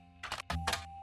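Keyboard typing clicks in the video game The Roottrees Are Dead, two short dense bursts of rapid clattering keystrokes, close and fairly loud, with no talk.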